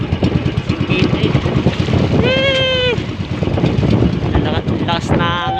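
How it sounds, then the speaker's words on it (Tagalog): Strong wind buffets a microphone on a fishing boat at sea, a loud rough roar with gusting low thumps and engine noise beneath, while people speak briefly and a high whistling tone cuts through midway. "Lakas na hangin."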